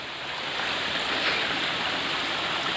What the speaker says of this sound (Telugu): చూడండి మన వాటర్ ఫాల్ కనిపిస్తుంది కదా